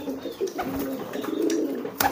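Domestic pigeon cooing up close in a steady series of low, throaty coos, heard alone without talk.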